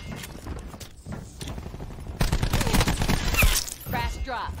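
A Spitfire submachine gun in Call of Duty: Black Ops 4 fires rapid bursts in gun game mode. The clattering shots are close and loud, with a brief lull between bursts, and a voice talks over the gunfire.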